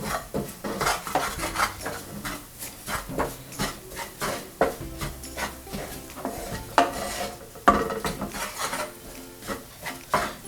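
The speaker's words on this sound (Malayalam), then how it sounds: "നന്നായിട്ട് മിക്സ് ചെയ്യാനേ." Egg is mixed with salt and pepper in a pan, giving rhythmic scraping, stirring and clinking strokes of a utensil against the pan, close and steady throughout with no talk.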